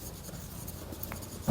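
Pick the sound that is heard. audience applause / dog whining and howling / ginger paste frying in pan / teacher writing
teacher writing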